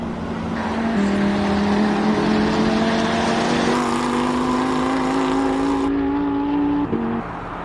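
An Audi R8 race car at a hill climb, its engine note sustained and loud with rising pitch through gear changes, climbing steadily before a shift near the end.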